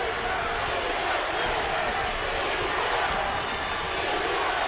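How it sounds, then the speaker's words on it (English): A partisan crowd at a college men's basketball championship game roars continuously in a large arena, a dense wash of cheering with faint sneaker squeaks and an announcer's voice underneath. "And this partisan crowd on its feet"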